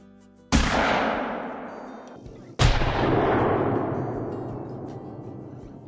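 Two loud booming slug shots from an over-and-under 12 gauge shotgun in the hunting game Call of the Wild, about two seconds apart, each followed by a long rolling echo that fades away.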